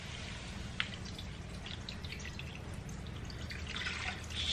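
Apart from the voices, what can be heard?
water poured into a pot for rice mix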